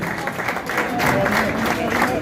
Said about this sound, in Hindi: उनके लिए भरपूर तालियों से हौसला अफजाई कीजिएगा।